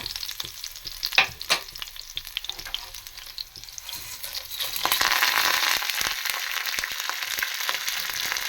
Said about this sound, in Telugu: మిగతా పోపు అంతా కూడా వేయించుకొని దోరగా వేయించు